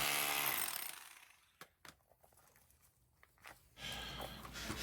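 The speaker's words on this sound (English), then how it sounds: "I'm just going to take this the hammer drill back with the chisel bit and just dig more into it, break up what I can." A hammer drill fitted with a chisel bit chips away at concrete during a linear drain install, a loud burst at the start, then scattered knocks and scrapes before the drill roars up again near the end.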